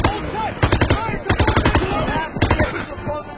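An MP40 submachine gun fires in the World War II shooter Call of Duty on PC, loud close bursts of rapid automatic shots with brief gaps between them.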